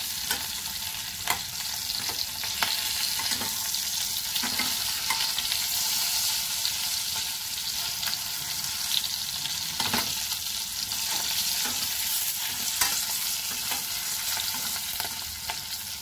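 Green chillies stuffed with besan frying in a pan: a continuous dense sizzle with repeated scraping and tapping of a stirring spoon throughout, close by and with no speech.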